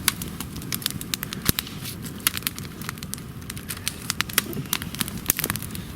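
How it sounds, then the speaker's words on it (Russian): Campfire in a forest by a river mouth in the evening, crackling and popping with frequent sharp snaps over a soft hiss, close and fairly lively, with no talking. "Ну, костер совсем разошелся."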